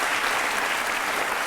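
Studio audience applauding during a televised courtroom-style talk show with a boxing champion, a steady dense wash of clapping filling the whole moment at even loudness.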